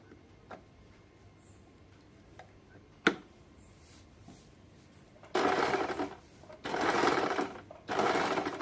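A regular domestic sewing machine stitching cutwork along a fabric edge runs in three loud, close bursts of rapid even stitching, following a few quiet clicks and one sharp knock.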